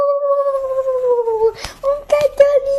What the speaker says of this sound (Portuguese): um cachorrinho de verdade